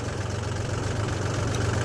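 Tractor engine running close by, a steady, even low throb with a faint knocking pulse throughout and no talk.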